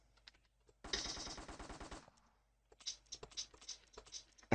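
A submachine gun fires in a video game weapon system demo, one rapid sustained burst of about a second, loud and close, followed by scattered clicks and taps.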